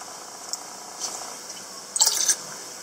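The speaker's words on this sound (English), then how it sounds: "So I'm just going to add the anesthetic into the water." Anesthetic liquid is poured into water for treating a koi, giving faint drips and a short splashing trickle close by in a quiet setting.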